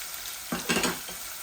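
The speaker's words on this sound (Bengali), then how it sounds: "পেঁয়াজ দিলাইলাম দুনো কারির মাঝে" Onions tipped into a hot pan for a fish curry give a brief burst of sizzling and stirring, rising sharply for about half a second before settling into a quieter, steady frying hiss.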